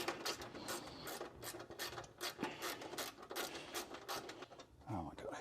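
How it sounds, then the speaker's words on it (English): Rapid ratcheting, grinding bursts from self-tapping screws being driven during a 2002 Pontiac Trans Am build, close and busy, with a voice briefly audible near the end. "Oh my God, I hate self-tapping screws."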